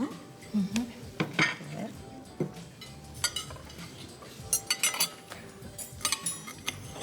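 Plates, pots and cutlery clink and clatter in a series of sharp, close knocks and chimes as dishes are set down for a meal, with faint voices in the background.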